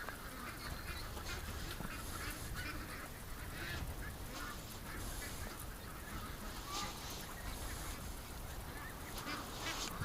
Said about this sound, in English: Look at this Muscovy.